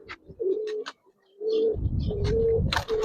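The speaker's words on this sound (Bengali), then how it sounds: "নরমাদি ইনশাল্লাহ মার্কিং কবুতর, অনেক সুন্দর কবুতর" Giribaz and marked pigeons, male and female pairs, coo in a series of close, low, rolling calls, one after another with short breaks and a brief rustle between.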